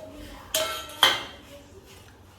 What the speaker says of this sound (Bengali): ঢাকাটা তো চলো ঢাকাটা খুলে দেখে আসি